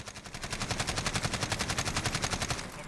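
AK-12 assault rifle fired on full auto in Call of Duty Modern Warfare: one continuous rapid burst of evenly spaced, very fast cracking shots lasting nearly three seconds, loud and close, with no voices over it.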